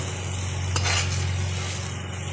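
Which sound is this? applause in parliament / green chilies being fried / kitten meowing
green chilies being fried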